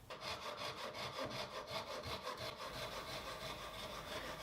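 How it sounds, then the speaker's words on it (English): Japanese pull saw cutting wooden splines for a timber table, a quick run of close, rasping strokes in a steady rhythm, about ten per few seconds. "It's a Japanese pull saw."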